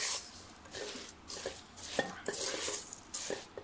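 Ladoo mixture gets worked through with thick honey, giving soft scraping and light clinking strokes in an irregular rhythm, close and fairly quiet.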